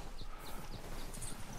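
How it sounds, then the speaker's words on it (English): A horse in the Red Dead Redemption 2 video game clip-clops with steady, moderately faint hoofbeats under soft ambient game sound. "That's my main horse."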